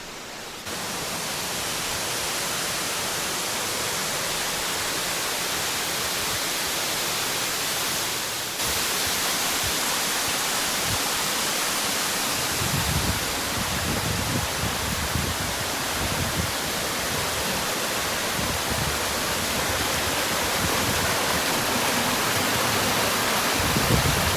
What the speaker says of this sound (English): I'll show you the waterfall now.